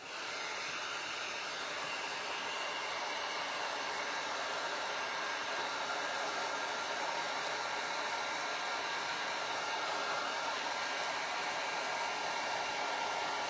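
A hot air blower runs continuously for several seconds, heating a small dab of hot glue on a snowman snow globe craft. The airy rushing hiss is steady and close, with no talking over it.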